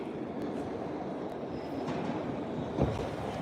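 An MBTA subway train made of 1800-series cars rumbles through a station at night, a loud, steady roar with light rail clatter and a brief louder thump near the end.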